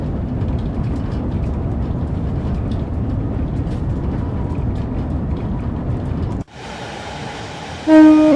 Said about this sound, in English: Get a bit of horn action there.